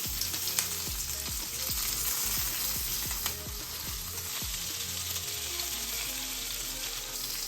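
Keto meatballs fry close by in a pan with a steady, crackling sizzle. A string of soft knocks sounds as they are flipped and rotated, then the sizzle carries on alone with no talking.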